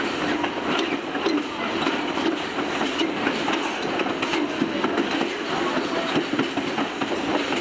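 An Adirondack Scenic Railroad passenger train rolls along the rails near Otter Lake, a steady rumbling clatter of wheels over track joints with rhythmic clicks, heard from on board at a constant moderately loud level.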